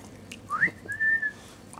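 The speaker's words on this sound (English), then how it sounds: "They hear that whistle." A single loud, clear human whistle calls dogs outdoors in a garden, a rising two-part tone followed by a long sustained note, with no talk over it.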